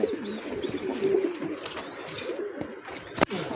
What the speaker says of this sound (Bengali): আচ্ছা বোম্বার মাদিটার ডাক দেয় নাকি?